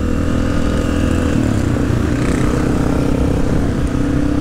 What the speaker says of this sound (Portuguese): Olha o tanto de moto. Mano, mais de 13 motos